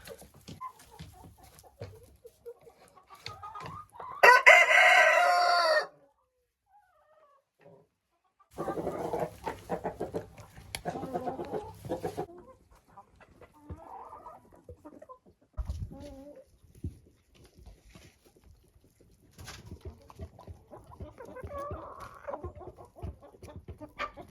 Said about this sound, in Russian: Цыплята Американо. Этим цыплятам уже 4 месяца.